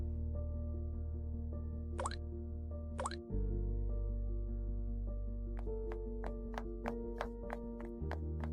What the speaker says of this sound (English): As the current flows, you can see vigorous bubbling.